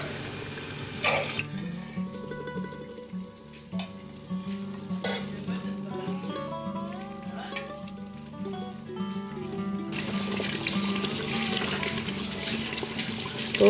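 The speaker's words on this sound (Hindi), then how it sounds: "अभी हम इसमें पानी डाल देते हैं।" A pan of curry sizzles steadily under soft background music, then water pours in near the end and the hiss swells louder.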